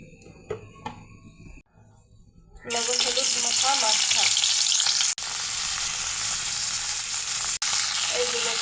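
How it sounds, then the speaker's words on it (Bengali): A rohu fish head rubbed with turmeric and salt goes into hot mustard oil in a kadai, bursting into a loud, dense sizzle that holds steady after a quieter opening of faint kitchen sounds. "মাছের মাথাতে হলুদ লবণ মেখে ভেজে নেব কড়াই গরম হয়ে গেছে সর্ষে তেল দিয়ে দেবো"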